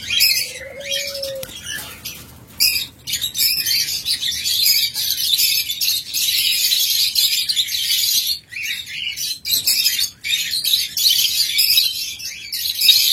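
Lovebirds kept for sale in pairs chirp and tweet continuously in high, busy overlapping calls, with a brief whistled note near the start and a few wing flutters, loud and close with no talking.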